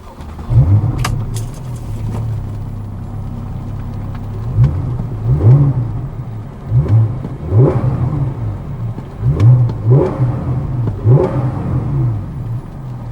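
A 2015 Porsche 991 Carrera S with a 3.8-liter six-cylinder engine and sports exhaust starts up and settles into a deep idle, then gives a series of short throttle blips that rise and fall in a steady rhythm, heard close and alone.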